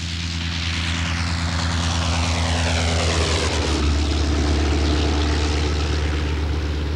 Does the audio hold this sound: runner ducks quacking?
no